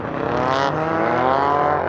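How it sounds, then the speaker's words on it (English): A race car roars past at close range on an ice race track, the loud engine tone bending as it sweeps by in under two seconds, with no voices. "And there goes our car."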